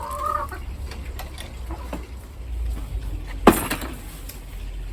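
Hens cluck intermittently at moderate distance in a hen run, with a louder squawk partway through over steady outdoor background noise.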